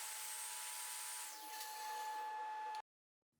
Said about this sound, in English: I'll start by cutting the two smallest pieces in the table saw with a miter gauge at 45 degrees